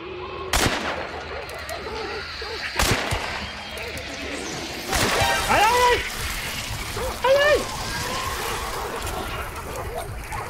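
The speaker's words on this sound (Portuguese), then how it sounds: "Tá escutando tiro? Tem tiro pra lá" Several sharp, isolated gunshots crack at irregular intervals over ambience in the video game Hunt: Showdown, with voices talking in the background.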